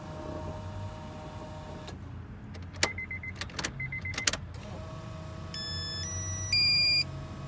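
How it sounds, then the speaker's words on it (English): Fuel pump priming in a boosted Honda Integra with a sleeved GSR B18 engine, a steady low hum in a car interior with several sharp electronic chimes and beeps mixed in. "Ooh, fuel pump, we got fuel pressure."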